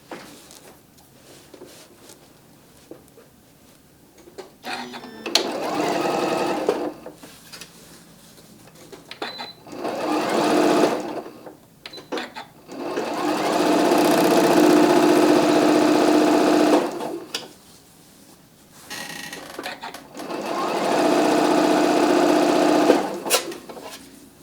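A sewing machine stitches through fabric and foam for a curvy bag, running in several sustained bursts of steady whirring with short pauses between them, close and loud, with no talk.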